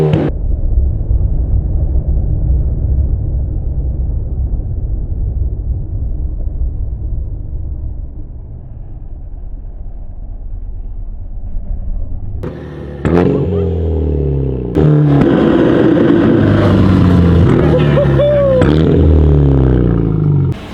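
A Genesis Coupe engine revs through a newly fitted exhaust, a loud sustained low rumble that breaks into sharp, rising revs and roaring bursts in the second half.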